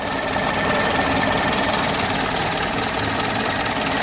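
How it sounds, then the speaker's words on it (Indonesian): A Toyota Etios, a former taxi, idles with a vibrating engine, giving a loud, steady mechanical drone with a faint knocking texture that runs evenly throughout, with no talk. "Masih getar ya mesinnya"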